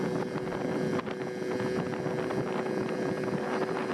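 A Yamaha QT50 Yamahopper moped with a tiny 49cc engine runs with a steady buzzing drone, roughened by wind noise across the microphone.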